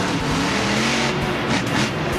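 A monster truck engine roars and revs continuously at a freestyle arena event, loud and close with no break over the whole stretch.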